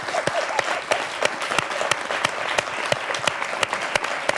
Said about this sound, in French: J'aimerais vraiment qu'on puisse également applaudir les membres du jury